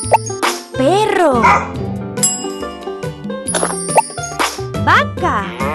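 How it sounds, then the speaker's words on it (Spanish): A cartoonish dog barks in bright, bouncy bursts inside a children's animal-matching game, mixed with chimes, bell dings and cheerful voices calling out animal names. "¡Perro!"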